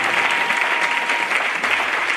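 A church congregation applauds loudly and steadily for about two seconds, a dense, continuous clapping that fills the room.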